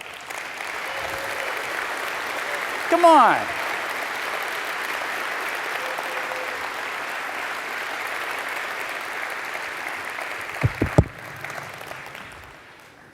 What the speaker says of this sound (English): And I'd really love it if you'd all give them a big round of applause.